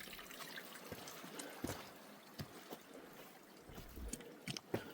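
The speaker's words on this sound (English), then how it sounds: "Oh, steady drips." Steady water drips trickling through moss on a mountain trail near Moosilauke, a soft continuous wet patter with scattered brighter drip splashes close by, no voices.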